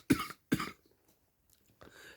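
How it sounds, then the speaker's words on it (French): Two sharp, close coughs in quick succession, about half a second apart, followed after a pause by a softer throat-clearing sound, in an otherwise quiet room. "C'est un toussement, comme quoi j'ai trop parlé."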